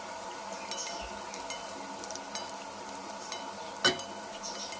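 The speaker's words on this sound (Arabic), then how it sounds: "بصوا البصله بدات تتحمر معايا برضو" Onion frying and browning in a pan, a faint, steady sizzle with soft stirring sounds and one brief clink of a utensil against the pan.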